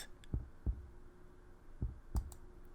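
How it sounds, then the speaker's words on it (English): Heartbeat sound effect in a video game: two pairs of soft, low, thudding lub-dub beats, close and isolated over faint background hum. "I can feel my heart pounding against my chest, and we can hear it too."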